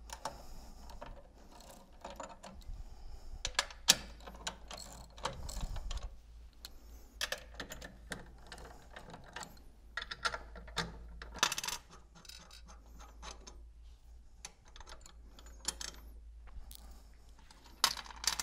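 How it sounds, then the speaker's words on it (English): Nuts being loosened and removed from the motor adapter of a Goulds e-SV water pump give quiet, scattered metallic clicks and clinks with small tool ratchet sounds, irregular and close, with no talking. "So next we're going to remove the nuts on the motor adapter."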